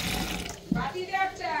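Water from a tap runs in a faint, steady hiss while hands are washed, with voices talking over it and a small knock partway through.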